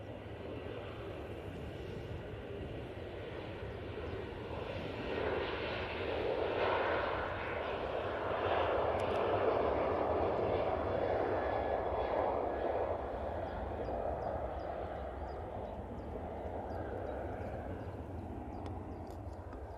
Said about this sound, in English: Pretty late rotation there from that Ryanair, but still plenty of runway to use